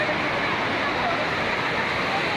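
A waterfall roars in a steady, broadband wash of rushing water, loud and close for a couple of seconds with no breaks.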